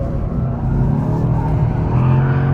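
A Mercedes-AMG C63 with its turbocharged engine driven hard on a track with ESC off: a loud, close, sustained engine drone whose pitch climbs as it revs, with possible tyre noise, no talking.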